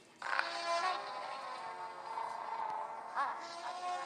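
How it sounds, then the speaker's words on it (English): SpongeBob's alarm clock in a cartoon blares like a loud horn, a sustained, harmonically rich blast that starts abruptly and holds for about four seconds with slight wavering and swells, heard alone without talk. "That's his alarm clock. Or should I say alarm horn?"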